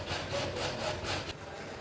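A hand hacksaw cuts square through SWR plastic pipe with steady, close, rasping back-and-forth strokes that keep going without pause. No voices are present.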